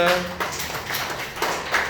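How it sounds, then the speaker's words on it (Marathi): Schoolchildren in a first-grade class clapping their hands, a few scattered, uneven claps mixed with children's voices and chatter in a room. "टाळ्या वाजवा रे म्हणजे याला सापड"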